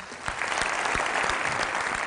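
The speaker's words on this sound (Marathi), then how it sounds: "जोरदार टाळ्या त्यांच्यासाठी" Loud, dense applause from a crowd at a Marathi television competition show, steady and sustained throughout with individual claps standing out, no talking over it.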